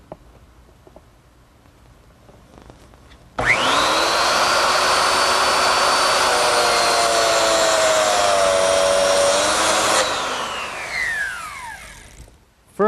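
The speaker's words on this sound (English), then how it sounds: "Now I'm going to make the slots that go in the lid itself." A biscuit joiner cuts slots into a wooden lid, heard as one loud, close, steady whine that starts abruptly, holds for several seconds with a slight shift in pitch, then winds down.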